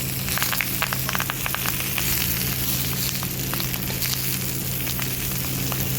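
Paneer paturi, a Bengali vegetarian dish of paneer parcels, frying in a pan with a steady, loud, close sizzle and crackle running throughout, no voices.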